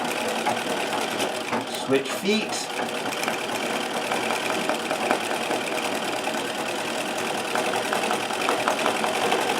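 A Singer 237 sewing machine stitches free motion embroidery, its steady fast whirring running the whole time with the table rattling alongside, while a person speaks briefly near the start.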